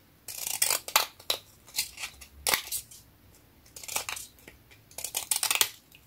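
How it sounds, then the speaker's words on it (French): Scissors cut through a paper picture in a series of crisp, close snips that come in short bursts with brief pauses between, and no talking. "Je vais la couper peut-être au ciseau."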